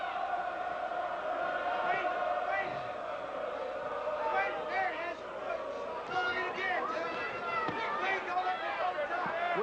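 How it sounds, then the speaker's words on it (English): A boxing arena crowd at the Tim Witherspoon vs. Frank Bruno heavyweight title fight chanting in a loud, rhythmic mass of voices, sustained throughout and mixed with general crowd roar and commentary. "and the crowd chants"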